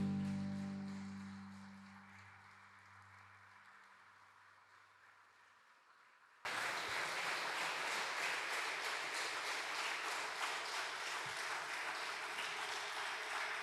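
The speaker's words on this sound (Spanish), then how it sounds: "Denle aplauso al Señor" A church congregation at a Sunday service bursts into sustained applause after a fading organ or keyboard tone, with the clapping loud and steady to the end.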